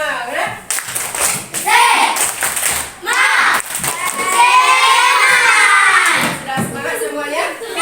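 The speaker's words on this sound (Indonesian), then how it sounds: "Tepuk semangat." A fourth-grade class of children performs a rhythmic spirit clap, sharp hand claps in quick patterns mixed with their chanting and shouting voices, loud and close in the classroom.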